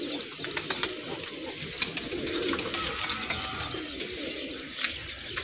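Several pigeons coo from a rooftop loft as the flock comes out and takes wing, with soft repeated calls and faint chirps over steady outdoor noise.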